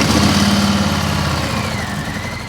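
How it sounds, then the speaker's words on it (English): An air-cooled, fuel-injected Milwaukee 8 107 cubic inch V-twin on a Harley-Davidson Sport Glide idles close by with a steady, low, loping rumble and no voices. "The Sport Glide is powered by the air-cooled, fuel-injected Milwaukee 8 107 cubic inch engine"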